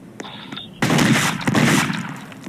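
A rapid burst of video game gunfire in Dead Rails erupts and keeps going, dense and loud, with sharper shots popping through; a faint tone plays just before it starts.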